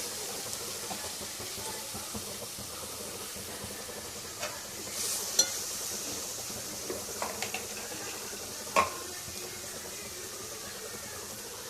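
Masala fries with curd in a pan for egg dum biryani, a steady close hiss and sizzle with occasional soft stirring scrapes and small pops, with no talking.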